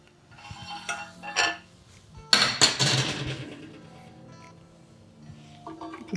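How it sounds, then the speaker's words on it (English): Chocolate caramel tart being removed from its mold, heard as a few close metallic clinks and scrapes, with one louder clatter in the middle, then quieter handling sounds. "all I'm going to do now is going to remove the tart from the mold"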